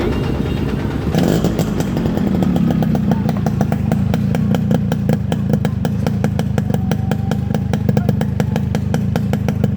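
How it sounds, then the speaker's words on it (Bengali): A Yamaha RXS115 motorcycle engine idles up close with a rapid, even, throbbing putter. It runs steadily and loudly on its own for the whole stretch. "এবং ইঞ্জিনের ভিতরে কোনো ব্যাড সাউন্ড নেই।"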